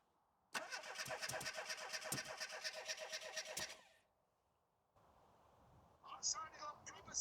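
A classic Mini automatic engine cranks rapidly for a few seconds, catches briefly, then cuts out; afterward a quieter rumble and a few faint voices follow.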